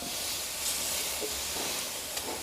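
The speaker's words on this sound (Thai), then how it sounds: "ใช้ที่คีบมาช่วยได้ครับ สยายเส้นซะหน่อย ผัดให้เส้นแห้งครับ" Rice vermicelli noodles stir-fried in a pan and loosened with tongs give a steady, close broadband hiss that runs unbroken throughout, with slight swells but no voices.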